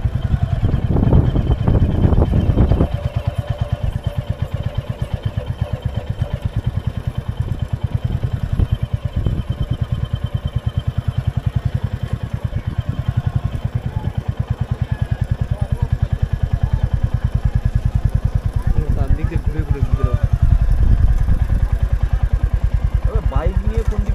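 Motorcycle engine running steadily through the whole stretch, loud and close with wind buffeting the microphone, as the bike rides and idles near the sea at Ganga Sagar; voices talk over it at times.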